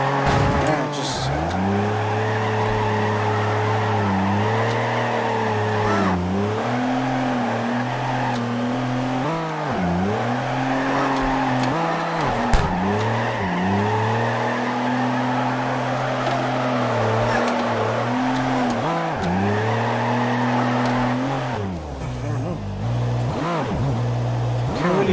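A drift car in CarX Drift Racing Online, with a steady engine drone whose pitch wavers as the throttle rises and falls, and long tire squeals through continuous slides, loud and unbroken.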